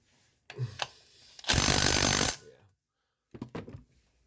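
An old battery-powered impact wrench works on intake bolts of a 2005 Ford Crown Victoria, with one loud, sustained buzzing burst of about a second between short clanks and handling knocks, close up and with no talking.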